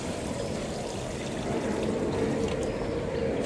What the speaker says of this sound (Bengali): আর আমি একটু সামান্য জল দিয়ে দিলাম